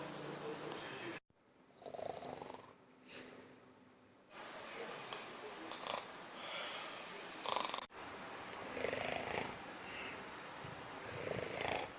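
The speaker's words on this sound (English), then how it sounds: "Because of your snoring, my eyes become like that, and I even can't sleep well." Slow, rhythmic snoring sounds close and fairly soft, a rough, purring rasp that rises and falls with each breath, with a brief pause and a few quiet voices in the background.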